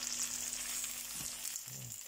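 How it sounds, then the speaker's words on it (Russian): Buckwheat cutlets fry in a pan with a steady, soft sizzle and crackle, faint hiss throughout and a couple of low clinks or scrapes, no voices. "И вот это сейчас жарится."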